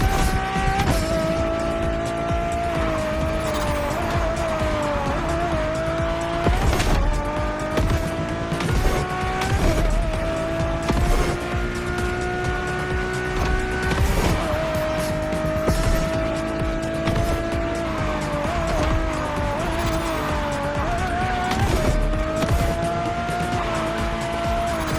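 Ferrari's road-legal, Formula One–style supercar in The Crew Motorfest, its engine note steady and loud throughout, rising and falling through gear shifts and bursts of revs, with brief tire squeals and skids between the throttle pulls.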